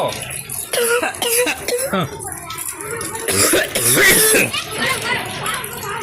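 Several bursts of coughing and throat clearing mixed with lively talk and laughter from a few people close by.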